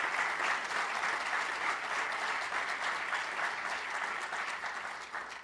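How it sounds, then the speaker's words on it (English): A large audience at a Feed the Future event gives a sustained round of applause, dense, even clapping that carries on for several seconds before tapering slightly at the end. "Let's give all five of these great organizations a round of applause."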